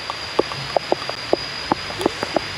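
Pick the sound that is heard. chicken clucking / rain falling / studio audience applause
rain falling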